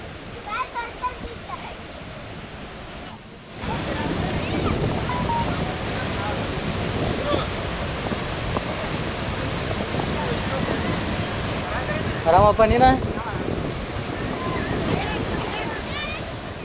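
The flooded Ghataprabha river rushes after heavy rain, roaring steadily, mixed with wind buffeting the microphone; a person speaks over it near the start and briefly later.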